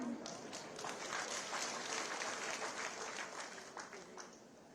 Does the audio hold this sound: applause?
yes